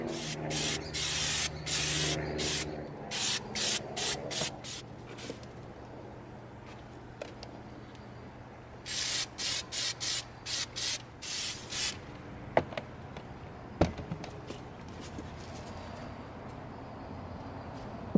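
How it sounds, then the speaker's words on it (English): Bursts of Plasti Dip aerosol spray hiss in short, rhythmic pulses onto the bottom edge of an EVA foam helmet, close and loud, with pauses between groups and a few faint knocks afterward. "we're going to spray the bottom edge of our helmet first"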